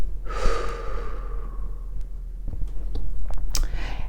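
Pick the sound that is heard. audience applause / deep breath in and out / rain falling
deep breath in and out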